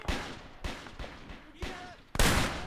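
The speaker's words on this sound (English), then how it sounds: "it's the AA gun" Anti-aircraft gun firing in a war video game, a series of sharp booming shots at irregular intervals, with a heavy final blast and a faint voice in the background.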